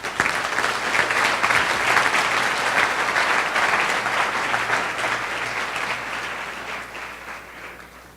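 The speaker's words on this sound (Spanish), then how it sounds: "Denle un aplauso al Rey" A church congregation bursts into full applause at an evening worship service, a dense, loud roar of clapping hands that holds steady for several seconds before gradually tapering off, with no speech over it.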